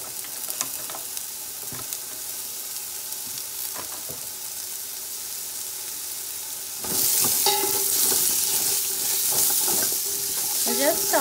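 Salted vegetables for turkey chow mein tossed in a hot frying pan, a steady sizzle that swells louder partway through as they are stirred, with faint scraping clicks up close.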